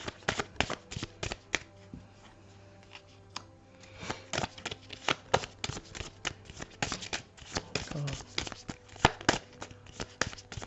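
A deck of cards being shuffled for a card reading, a rapid series of close riffling and flicking bursts repeating throughout, with brief pauses between.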